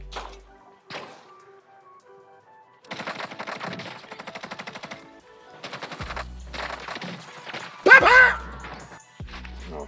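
Automatic rifle fire from the Bruen, FARA and Krig in a first-person shooter game, with several sustained bursts of rapid shots separated by short pauses, loud and close, plus a sharper impact near the end.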